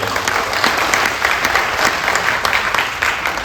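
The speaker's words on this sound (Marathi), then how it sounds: "एकदा जोरदार टाळ्या झाल्या" An audience breaks into loud, sustained applause, a dense wash of many hands clapping close up that keeps a steady level for the whole stretch, with no voices standing out.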